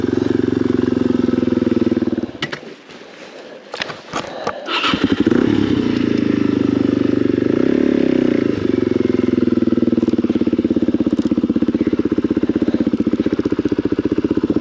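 A motorcycle engine runs steadily on a rough rocky trail in Lead King Basin, a loud close idle with a stretch of choppy stutter and scraping before it settles back into an even drone.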